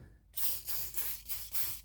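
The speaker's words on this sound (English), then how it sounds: "I'm just going to spray these slides right here," Silicone spray hisses onto the drawer slides of a toolbox in four or five short, close bursts with brief pauses between them.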